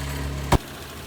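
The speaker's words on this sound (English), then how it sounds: "It's been about an hour and it's still idling." A car engine running on vape juice in place of engine oil idles with a steady low drone, broken by a single sharp thud before the hum settles lower.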